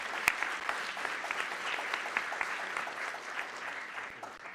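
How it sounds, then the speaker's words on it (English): Steady applause from an event audience, dense clapping with scattered sharper claps, moderately distant and continuous throughout without talk. "Let's give her a round of applause"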